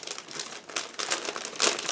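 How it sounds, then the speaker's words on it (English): A plastic bag holding a clear model-kit sprue is pulled open, giving close, loud bursts of crinkling and rustling in irregular handling motions. "we have separate plastic bag with transparent sprue. Now just give me a second to open it"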